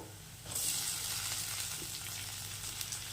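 Mushrooms frying in a pan for a spicy mushroom pepper dry starter: a steady, close hiss of sizzling that starts abruptly and continues evenly, with faint stirring.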